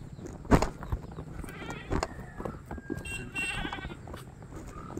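A goat bleats a few times at moderate distance, short wavering calls among faint farmyard background noise.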